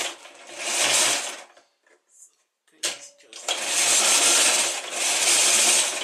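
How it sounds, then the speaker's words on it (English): A sewing machine runs in two loud, steady whirring bursts of rapid stitching, separated by a brief quiet gap with small clicks and handling sounds, close up. "So I'm just going to go back to the sewing machine, the same stitch"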